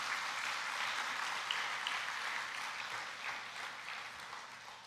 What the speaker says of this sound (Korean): 하나님께 한번 감사의 박수 올려드리면 어떨까요